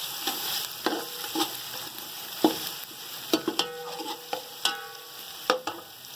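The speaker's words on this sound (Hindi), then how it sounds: "हमारे मसाले अच्छे तरीके से फ्राई हो जाए" Spices fry in a pot of oil for chicken yakhni pulao, a low sizzle broken by sharp scrapes and clinks of a spoon stirring at irregular intervals, close by, with no talking.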